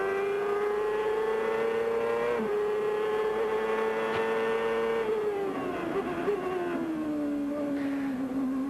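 A Honda V8 CART IndyCar engine heard from the onboard camera while racing at Surfers Paradise in 1997. The loud, steady, high-pitched engine note holds close, then dips and climbs as the driver shifts and changes speed.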